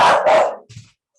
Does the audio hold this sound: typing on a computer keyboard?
no